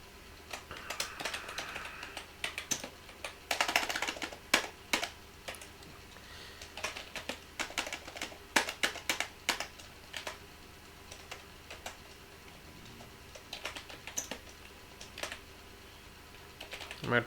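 Typing code on a computer keyboard, with quick irregular key clicks in bursts and short pauses, close and fairly quiet.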